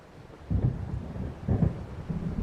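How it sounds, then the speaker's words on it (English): Thunder from a storm rolling over dark water in the video game Alan Wake, two low, heavy rumbles about a second apart over a steady bed of wind and rain, no voices. "It seems there's a storm coming."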